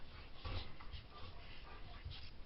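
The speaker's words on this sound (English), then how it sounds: "And now the dogs are in here." Dogs indoors in a craft room, faint whimpers and soft yips with light shuffling movement, quiet and somewhat distant.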